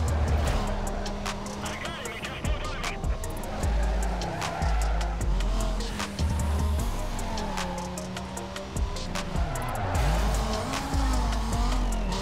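A car race in the video game Need For Speed: Most Wanted, with engine whine rising and falling through gear changes and repeated tire squeals, plus some talking over the action.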